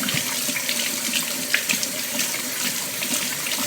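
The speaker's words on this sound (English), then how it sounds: "now I'm gonna tap it into here and rinse off my hands and the sieve" Tap water running steadily into a kitchen sink while hands and a sieve are rinsed, a close, constant splashing rush with small shifts as things move under the stream.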